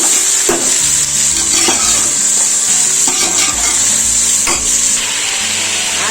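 Onions hiss and sizzle loudly in a hot pan for mutton biryani, with repeated scraping strokes of a spoon stirring them through the steady frying noise.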